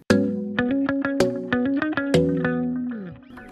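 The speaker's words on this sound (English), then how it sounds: "Ping pong 1/4 dotted delay." A synth line plays through a ping-pong quarter-note dotted delay in a pop production, its plucked notes sounding loud and close, with repeats bouncing in rhythm and trailing away at the end.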